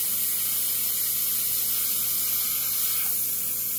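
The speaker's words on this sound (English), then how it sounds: "just gonna kind of spray that from a distance" An airbrush sprays paint from a distance with a constant, even hiss of compressed air that stays steady and fairly loud throughout, with no talking.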